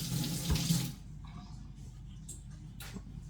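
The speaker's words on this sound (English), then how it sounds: "Rinse my hand." Tap water splashes briefly over a hand rinsed at a kitchen sink, a short close gush that fades into quiet room sounds.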